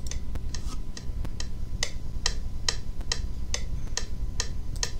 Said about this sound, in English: it'll give you like a tick so that you can keep on beat